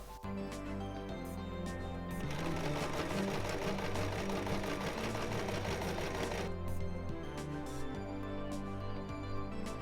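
A sewing machine stitching the lining of an evening jumpsuit, running in a fast, steady mechanical whir for several seconds, slowing to spaced clicks and thuds at the start and end, close and without voices.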